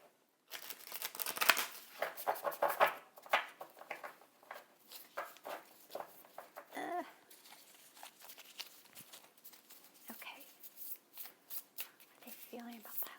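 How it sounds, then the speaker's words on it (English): Riffle shuffling of a deck of oracle cards, close and crisp, in repeated bursts of rapid fluttering snaps with short pauses between, at moderate loudness. "Let me shuffle this a little bit more, or riffle shuffle, I should say."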